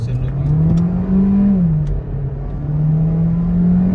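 A Volkswagen Virtus GT and a Kia Seltos 1.5 CRDi accelerate hard side by side in a drag race, their engines droning loudly and steadily, pitch rising through the gears with a brief dip at a shift before climbing again.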